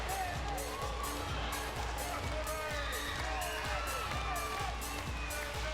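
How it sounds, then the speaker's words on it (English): A large crowd at a professional wrestling title match cheers and shouts continuously at a steady roar, with rhythmic thumps underneath and voices mixed into the noise. "Crowd going wild."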